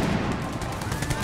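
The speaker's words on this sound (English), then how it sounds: "So a shrapnel shot for the foot artillery." Foot artillery firing shrapnel shot in the strategy game Empire: Total War, heard as dense, loud, overlapping gunfire-like bursts in a continuous battle din with no clear gaps.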